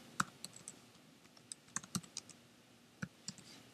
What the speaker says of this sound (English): we're going to simply type in the project name